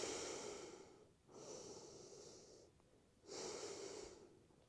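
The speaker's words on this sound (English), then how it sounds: "Let's do 10 deep belly breaths." Deep belly breathing during a yoga class while lying face-down on the floor: slow, close, airy breaths with long drawn inhales and exhales separated by short pauses, about three full cycles.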